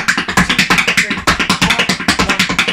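Tap dance steps using a relaxed ankle technique: quick, crisp taps in a steady, even rhythm, close and clear, with no talking.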